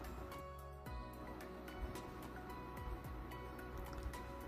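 Bean tikki patties fry steadily in a little oil on a tawa, a soft continuous sizzle with scattered pops and crackles, fairly quiet and close throughout.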